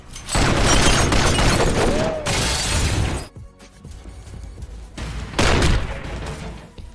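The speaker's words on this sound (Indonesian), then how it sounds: "sehingga baku tembak pun gak bisa dihindari" Bursts of rapid gunfire and crashing impacts fill the scene, dropping to a quieter stretch before another loud volley erupts.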